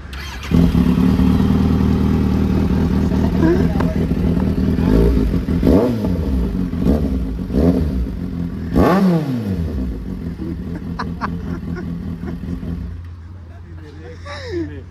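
A two-wheeler is push-button started and left idling in neutral. Its engine hums steadily and close, with a few brief revs rising and falling, and people talk over it.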